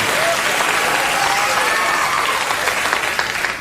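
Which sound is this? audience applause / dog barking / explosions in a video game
audience applause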